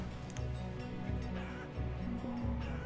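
Chickens in the medieval town-building game Banished, a rhythmic series of low clucking calls repeating roughly every half second at a modest level, with no speech.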